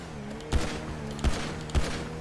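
Three sharp bursts of gunfire in the video game GTA V on a FiveM server crack out at short, uneven intervals over a low background hum.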